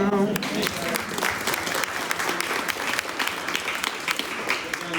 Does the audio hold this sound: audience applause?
yes